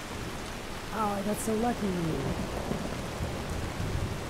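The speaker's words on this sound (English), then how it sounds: "I'm going to switch back to the rain. I'm actually going to switch the rain. Maybe we can have a nice downpour." Steady rain downpour in a video game, a broad even hiss running through the whole stretch under a man's excited speech.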